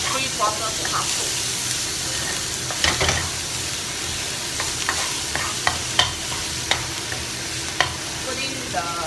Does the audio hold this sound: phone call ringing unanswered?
no